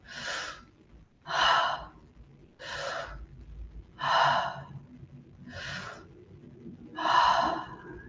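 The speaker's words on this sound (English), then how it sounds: "Nice deep breaths in through the front body, filling up the abdomen and the chest." During a breathwork exercise, a person takes six deep, forceful breaths in, close up. They come in an even rhythm about every second and a half, with quiet pauses between them.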